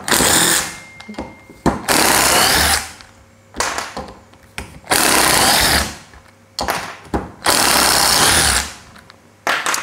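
A 12-volt Mollar CIDR12 impact driver running in reverse with impact, fired in several loud bursts of rapid hammering rattle separated by short quiet gaps, close up with no speech.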